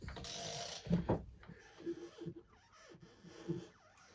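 Ratchet turning the engine of a Suzuki TL1000 S motorcycle counterclockwise, a sequence of faint, close clicks and mechanical ticks spaced irregularly over a few seconds after a brief rustle.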